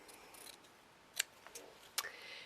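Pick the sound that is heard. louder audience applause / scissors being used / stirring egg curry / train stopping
scissors being used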